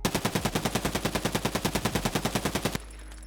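Unsuppressed UMP45 submachine gun firing in Escape From Tarkov: a single sustained full-auto burst of about twenty-five loud, evenly spaced shots over nearly three seconds, ending abruptly with a faint ringing tail.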